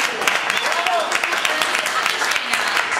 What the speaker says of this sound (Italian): E facciamo un applauso per Benzo che abbiamo messo.